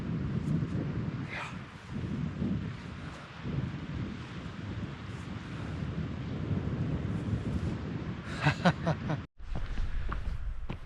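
Steady wind on a mountain on the Isle of Skye buffets the microphone with a continuous low roar, gusting a little, then a brief dropout near the end.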